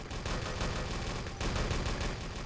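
Rapid overlapping gunfire in Enemy Territory, dense continuous bursts of automatic fire filling a short stretch with no pauses.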